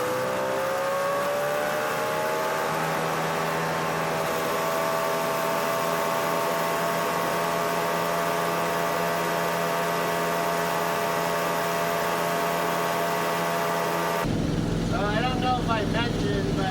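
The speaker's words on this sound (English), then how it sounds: "this old truck needs a muffler, but I didn't change the muffler because I actually like the noise." A 1964 Dodge D300 truck engine idles without a muffler, a loud, steady, rumbling drone with harmonic overtones that holds evenly for about fourteen seconds before a sudden cut to handling noise.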